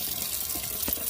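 Hot water running from a tap over a sink during drywall repair cleanup, a brief, soft, steady splashing stream.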